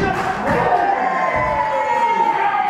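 A crowd cheers and roars steadily at an independent wrestling show, a loud, continuous wash of voices with no pauses.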